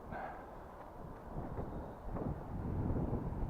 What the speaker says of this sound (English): Wind's picking up again a bit.